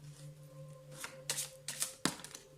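Oracle cards are shuffled by hand in a quiet room, with several quick riffling bursts and soft slides close up. A faint steady hum sits underneath.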